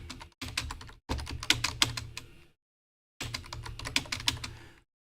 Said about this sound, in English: Typing and talking at the same time is tough.